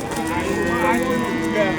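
Cows at a busy cattle market mooing amid a dense crowd murmur, with voices talking throughout.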